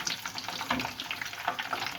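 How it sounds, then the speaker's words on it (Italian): Artichokes frying in hot oil for Roman-style carciofi alla giudia give a steady, dense crackling sizzle with bursts of popping bubbles, close and continuous. "piano piano lo facciamo friggere per circa 6-7 minuti"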